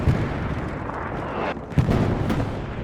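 Panzer IV firing HE shells in Hell Let Loose, heavy booming blasts over a rumbling battlefield din, with two sharp impacts standing out near the middle.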